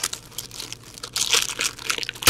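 A Dare to Tear hockey card is ripped open, giving crisp crinkling and tearing bursts that grow louder and busier toward the end, close to the microphone, with no talk.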